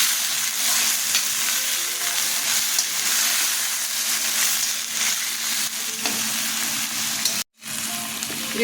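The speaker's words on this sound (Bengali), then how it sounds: "এলাচ দারচিনি লবঙ্গ ফোড়নে দিয়ে দিলাম আদা দিয়ে দিলাম পেঁয়াজ" Onion, ginger, cardamom, cinnamon, cloves and bay leaf hit hot oil for chire polao, giving a loud, dense, continuous sizzle with stirring scrapes. The sound cuts out briefly near the end, and no one speaks.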